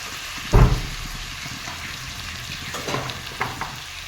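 Chicken curry with carrot sizzles in hot oil with turmeric, coriander, cumin and salt in a pan, a loud scrape and stir at the start followed by steady frying crackle and a few softer stirring knocks.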